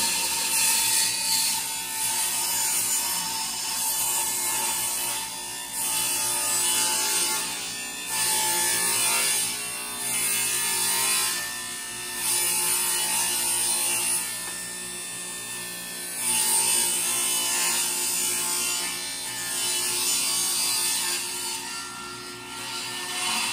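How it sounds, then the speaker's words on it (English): Wood router rounding over the corners of wooden dining table stretchers, a loud high-pitched electric whine that swells and dips in repeated passes as the cutter moves along the wood, with no talking. "use a router and route it round by just rotating it and routing it"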